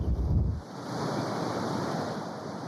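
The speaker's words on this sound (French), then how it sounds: "Des vents à 130 km/h combinés à une marée montante." Storm surge waves and violent gusting wind at the Wimereux seawall, a roaring broadband rush of surf and wind buffeting the microphone, loud and continuous after a brief heavier low rumble at the start.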